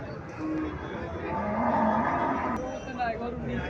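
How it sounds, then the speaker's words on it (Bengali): A Haryana cow mooing in a cattle market setting, several low, drawn-out moos at moderate distance over a steady background murmur. "এখানে আর একটা গাভী দেখা যাচ্ছে"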